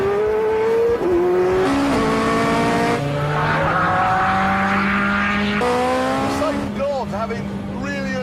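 A Ferrari F430 Scuderia engine revs hard and loud through rising gear pulls with sharp shifts and a throttle blip, while someone talks over it.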